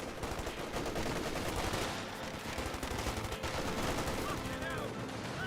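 MG34 machine gun fire rattles in Company of Heroes 2 as part of a dense, continuous battle mix with sustained bursts of automatic gunfire and explosions.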